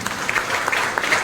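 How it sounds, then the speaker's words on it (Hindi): Short burst of audience applause at a coaching institute ceremony, dense even clapping from a crowd at moderate level, no voices over it. "एक बार जोरदार तालियां सबके लिए"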